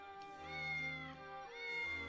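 A cat meows twice, each a drawn-out, rising and falling call, faint and somewhat distant over a low background hum from gameplay of Triangle Strategy. No one speaks.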